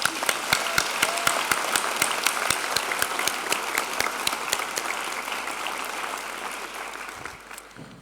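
A large graduation audience applauding at an honorary doctorate ceremony, sustained dense clapping that stays loud throughout and tapers slightly near the end, with no talk.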